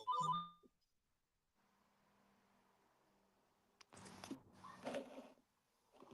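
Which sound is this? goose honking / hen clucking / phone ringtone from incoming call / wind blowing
phone ringtone from incoming call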